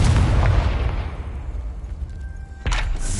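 The Confringo fire spell explodes in the Hogwarts Legacy video game: a loud rumbling blast that fades, then a second sharp burst near the end.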